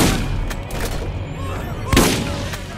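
An opponent's gun fires in a video game, with a few sharp shots and one heavier boom standing out over a rumbling game background.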